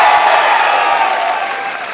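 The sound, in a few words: audience applause at a poetry event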